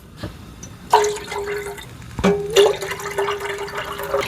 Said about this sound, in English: I'm going to drain the chicken and the mixed vegetables right into the pot with the chicken broth